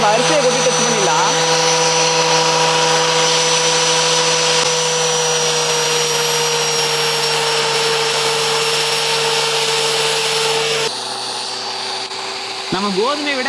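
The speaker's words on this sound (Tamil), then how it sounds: "நம்ம கோதுமையை விட அரிசி நல்லாவே ஃபாஸ்ட்டாக அரைக்குது." A homemade flour mill machine grinds rice with a steady high motor whine and rough grinding hiss. The note drops slightly near the end and wavers briefly as the load changes.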